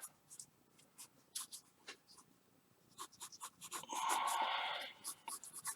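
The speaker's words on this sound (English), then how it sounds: "let's go ahead and start sketching this out a little bit" A pen sketches a drawing on paper in short scratchy strokes, with a longer continuous scribble of shading in the middle, close and fairly quiet.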